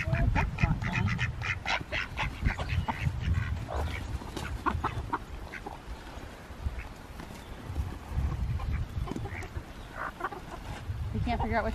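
Ducks quack in a barn where baby goats have arrived, repeated nasal calls mixed with clucking fowl and shuffling hooves, close and busy, with people talking at times.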